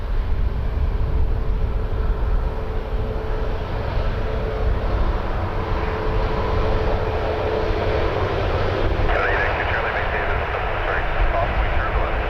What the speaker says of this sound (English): That is a Star Alliance A330 Air Canada butter machine.